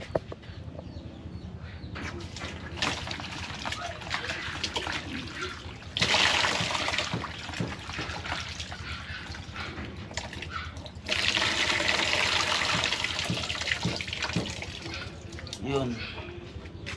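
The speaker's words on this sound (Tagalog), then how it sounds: "Yan, hugasan ko muna guys." Tap water runs steadily over vegetables being washed for pinakbet, a continuous splashing stream that grows louder in two stretches as the flow hits the produce, while someone talks over it.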